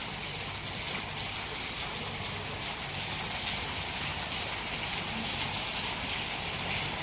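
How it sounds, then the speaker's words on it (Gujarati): Heavy rain pours steadily over Porbandar, a dense continuous hiss with no breaks, close and fairly loud throughout. "અંદાજે 40 મિનિટથી તો વરસાદ કન્ટિન્યુ ચાલુ છે."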